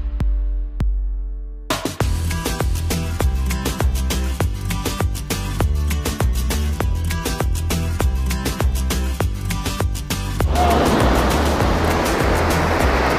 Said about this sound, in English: the sound of the ocean, the waves